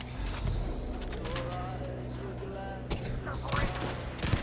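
Gunfire in the video game Starfield: rapid bursts of loud shots over a noisy battle soundscape, with a heavier blast cluster near the end and a voice speaking underneath.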